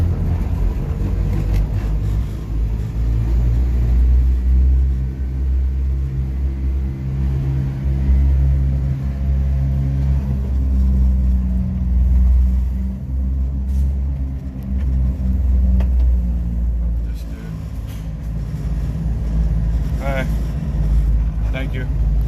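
A Subaru Sambar kei truck with a carburetor that bogs, its engine idling and warming up with a steady low rumble and occasional revs rising and falling, a voice talking over it.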